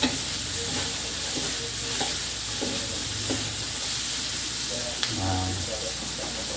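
Bamboo shoot atchara being stirred with two ladles in a sizzling pan, a steady frying hiss under repeated scraping and clinking strokes close by.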